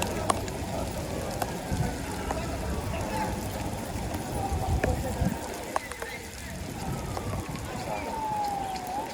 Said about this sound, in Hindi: हाँ तेज़ है बारिश भाई